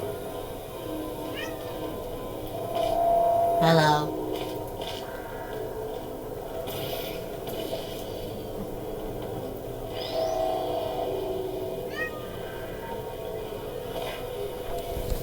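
Cats meow in a Portal 2 game setting, a few short mewing calls spread across the stretch, moderately close over a steady low hum, with a brief spoken greeting.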